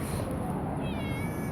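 A cat gives one drawn-out meow with a rising, wavering pitch near the end, heard close over a dull, rumbling background.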